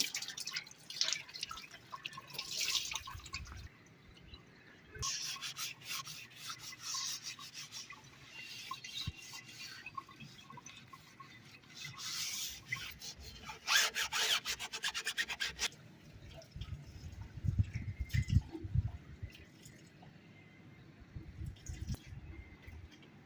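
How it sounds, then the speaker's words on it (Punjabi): Water drips and wet rubbing sounds come from a muddy tyre being washed and wrung out, with irregular close-up splashes and scrubbing that run in uneven bursts. "ਟਾਇਰ ਧੋਤਾ ਤੇ ਟਾਇਰ ਦੇ ਵਿੱਚੋਂ ਪਾਣੀ ਨਹੀਂ ਨਿਕਲ ਰਿਹਾ"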